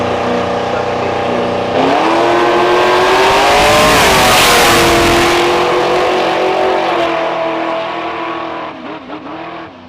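A nostalgia drag race car roars down the strip at a St Thomas, Ontario event, its engine note rising and swelling loud through the run before fading near the end, with a faint public-address voice in the background.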